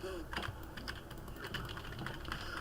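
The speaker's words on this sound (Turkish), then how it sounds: "klavye sesi geliyor özür" Rapid computer keyboard typing, a steady stream of close, clicky keystrokes during a Deadpool game session, with game audio running faintly underneath.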